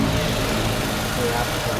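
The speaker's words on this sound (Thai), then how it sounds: "ไปฟังเสียงเครื่องยนต์เลยครับ" A 2016 Suzuki Ciaz 1.2 engine idles with a steady, low hum, even throughout, quiet and smooth with no knocks or revving.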